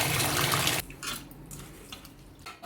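Dried prawns being washed in running water, a loud splashing rush that cuts off after under a second, followed by quieter trickles and wet handling sounds.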